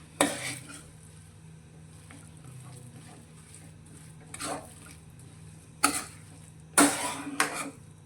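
A spoon scrapes and clinks in a pot while a stuffing mixture with lemon juice is stirred, the quiet scraping broken by a few sharper knocks toward the end, with no talking.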